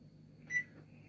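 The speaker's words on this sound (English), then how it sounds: "I'm going to just go ahead and set this timer" A kitchen timer set while baking an apple crisp, giving a single short electronic beep close by against a quiet room hum.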